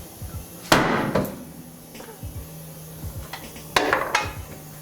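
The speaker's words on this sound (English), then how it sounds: "Big ass hammer always." Two heavy metallic blows from a big hammer working on a Honda CR-V land about three seconds apart, each ringing briefly, with lighter clanks and knocks in between.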